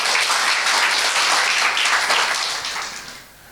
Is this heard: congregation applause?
yes